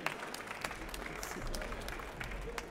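An audience at a cooking talk claps steadily to welcome a guest, a broad patter of many hands with a few sharper individual claps, moderately loud and sustained throughout.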